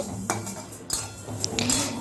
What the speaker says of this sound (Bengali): কড়াইতে দিয়ে এবার এই মুগ ডালটাকে একটু লালচে রং আসা পর্যন্ত মিডিয়াম টু লো ফ্লেমে ভালো করে ভেজে নেব